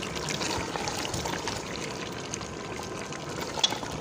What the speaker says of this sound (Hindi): यहाँ पे मैं बड़ा जो चम्मच होता है ये घी का यहाँ पे मैं डाल दूँगा।